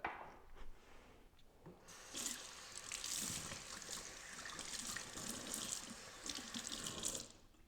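Tap water runs steadily into a container for several seconds, a broad hissing splash with a brief rubbing noise before the flow starts.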